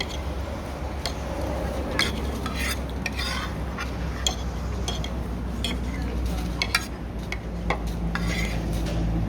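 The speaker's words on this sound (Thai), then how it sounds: "ผมตักผักมั่งนะครับ" A spoon scoops vegetables from dishes at a restaurant table, making repeated light clinks and scrapes of metal on crockery over a constant background hum.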